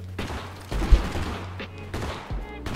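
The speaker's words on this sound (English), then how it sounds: "Someone is shooting at me." Bursts of gunfire ring out in the video game Totally Accurate Battlegrounds, several sharp shots in quick clusters with short gaps between them.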